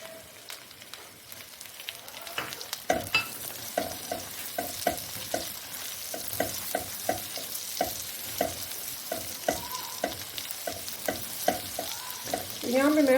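Onions for a chicken salan frying in a pan and being stirred, a steady sizzle broken by a long run of regular scraping strokes, close and fairly loud, with no talking.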